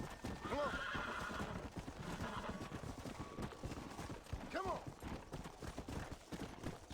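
A horse gallops in Red Dead Redemption: Undead Nightmare, with steady hoofbeats along railroad tracks and two loud whinnies, one near the start and one past the middle, over low game background noise.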